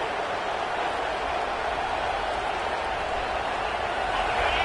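A big football stadium crowd at a Michigan vs Notre Dame game roars in a steady, dense wall of cheering and applause that holds loud and unbroken throughout.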